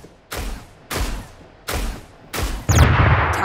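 Gunfire from the mech shooter game Super Mecha Champions comes in four loud, booming bursts, evenly spaced, the last one merging into a longer rumbling volley.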